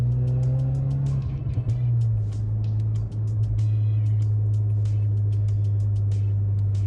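Ford Focus RS on a test drive, a deep steady engine drone that ramps up and holds, heard close from inside the cabin with light clicks and no talk.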